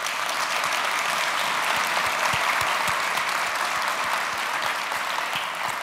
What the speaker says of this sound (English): So let's give these finalists, please, a big round of applause.